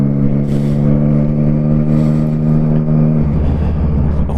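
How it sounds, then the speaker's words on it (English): Loud, steady engine drone of a motorcycle being ridden, holding a constant pitch before the tone drops and shifts toward the end, close to the microphone. "you want to listen to the bike and see me ride it"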